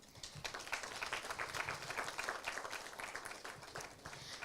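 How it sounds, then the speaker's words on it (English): Audience at a mechanical engineering conference applauding to welcome a professor to the stage, a steady faint wash of many hands clapping throughout without a break. "Let us welcome Professor S.P. Singh with a huge round of applause."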